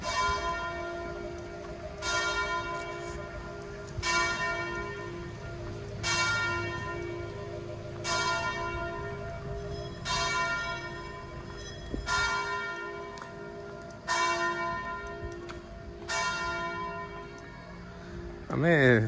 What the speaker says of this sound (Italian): Che bello la musica della campana.